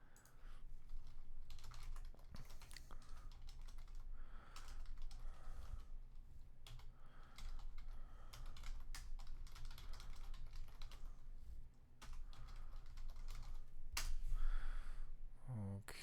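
Someone typing a password on a computer keyboard, with steady bursts of close, crisp key clicks, short pauses between runs and a louder flurry near the end.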